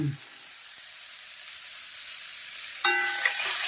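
A steady, close sizzle of onions frying in hot oil for a Kerala bitter gourd theeyal hisses throughout, brightening near the end as something is stirred in the pan.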